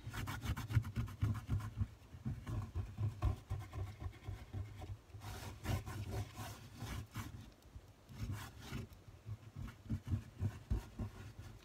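Rubbing ink off the recessed lines of an embossing plate, close, repeated scrubbing strokes in bursts with short pauses, no talk.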